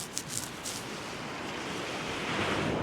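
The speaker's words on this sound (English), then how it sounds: "The waves coming in." Surf rolls onto a beach at Macduff with a broad, steady wash of noise that swells slightly louder toward the end, with some wind and no voices.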